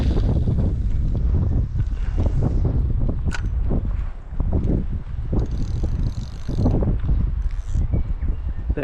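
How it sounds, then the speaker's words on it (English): Wind gusts across an open fishing camp by the water, buffeting the microphone with a continuous, loud, low rumble that swells and eases over several seconds. "That wind's really coming up."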